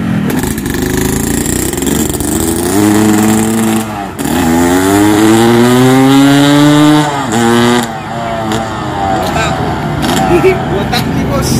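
A 1994 Yamaha RX-King motorcycle with a modified exhaust revs loudly and close, its engine pitch climbing and falling through several throttle blips, with a drier, raspy growl.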